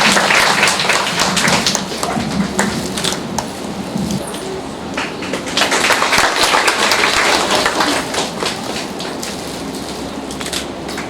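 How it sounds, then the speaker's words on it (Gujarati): Loud, dense applause from an audience at an honouring ceremony, a continuous crackling patter of many hands that holds steady for around eleven seconds with no talk over it. "સન્માનિત કરે છે ત્યારે તાળીઓ પાડીશું આપણે કરે"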